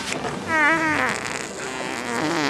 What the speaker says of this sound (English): Did that guy just fart?